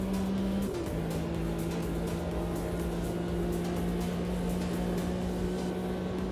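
A race car engine in the Automobilista 2 racing game holds a steady, fairly faint drone. Its pitch steps once near the start, then stays even throughout.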